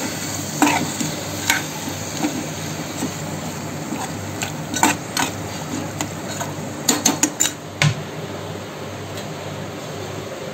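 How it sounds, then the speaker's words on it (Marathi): Carrots, potatoes, peas and French beans are sautéed in a hot pan under a constant sizzle, with clustered clacks and scrapes of stirring against the pan. "त्यामध्ये टाकूया गाजर, बटाटा, वाटाणा आणि फरसबीन। हे चांगलं परतून घेऊया।"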